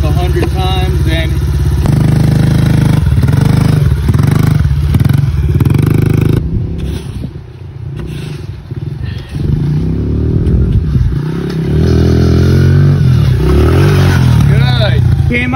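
Honda dirt bike riding laps and launching off a slippery jump in the rain, its loud engine droning and revving throughout with a brief dip mid-clip, while a person talks over the riding.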